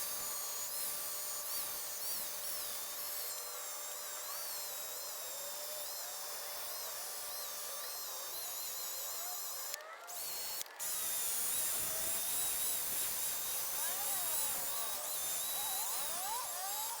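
A power tool spins sandpaper across a car headlight lens at modest speed, giving a steady whirring buzz with wavering pitch, two brief stops near the middle, then continuing alone with no voices.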